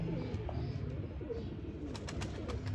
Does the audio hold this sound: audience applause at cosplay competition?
no